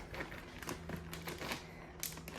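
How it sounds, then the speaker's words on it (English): Onion rings tumbled with flour inside a Ziploc bag, a quiet rapid patter of soft rustles and taps repeating irregularly at close range, without speech. "I'm seriously just gonna toss them around here, get them all covered in the flour."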